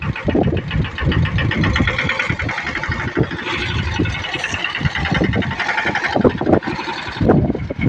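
A tractor engine runs steadily and loudly throughout, with a continuous mid-range rumble, as a learner driver steers it on a farm while hauling peanut fodder for cattle.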